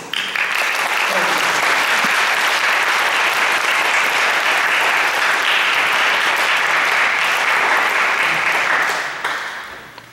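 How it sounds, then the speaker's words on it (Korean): A church congregation applauds a baptism with loud, dense, sustained clapping that holds steady for about nine seconds before tapering off. "저희들이 따뜻하게 침례를 축하하면서 같이 박수로"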